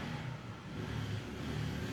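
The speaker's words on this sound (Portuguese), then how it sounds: "Ó a moto" A motorcycle engine hums at a low, fairly steady pitch, heard faintly from a distance under a rumbling background.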